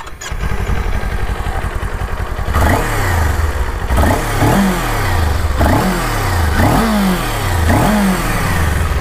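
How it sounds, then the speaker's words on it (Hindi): A 2022 Kawasaki Ninja 400 motorcycle with its stock exhaust starts up and idles, then gets revved five times in a row, each loud, close rise in pitch falling back to idle. "तो भाई ये रहा आवाज़ निंजा 400 2022 का, जो कि अभी स्टॉक साउंड है।"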